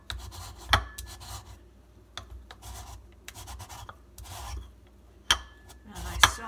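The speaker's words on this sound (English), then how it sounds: "and zest all of this" Lemons being zested on a grater: soft, intermittent rasping scrapes with a few sharper clicks of the tool against the bowl, fairly quiet and close, no voices.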